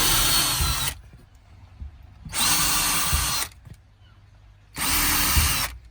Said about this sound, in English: Marking and drilling.